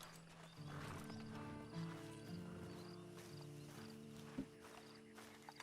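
Horse hooves clip-clopping in Red Dead Redemption 2, a steady walking rhythm of soft hoof falls with a whinny-like tone and faint music underneath, fairly quiet overall.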